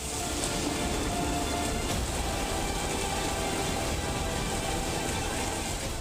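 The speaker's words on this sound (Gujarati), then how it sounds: "ખેતરમાં વરસતો આ વરસાદ ખેડૂતો માટે જાણે આફત બનીને વરસી રહ્યો છે" Steady, dense unseasonal rain pours down continuously on farm fields, a broad even hiss of drops striking an open surface with no voices present.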